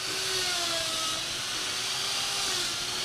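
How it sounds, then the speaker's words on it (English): A steady, loud whining engine roar with a harsh grinding edge, continuous throughout, like a chainsaw biting into ice. "Ice flying off much like you see wood chips coming off of a wood chainsaw"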